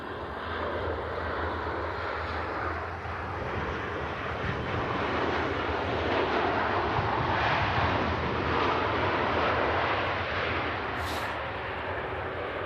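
Planes landing and taking off at Manchester Airport produce a broad, sustained jet roar from a moderate distance, steady and rushing throughout, with wind buffeting the microphone.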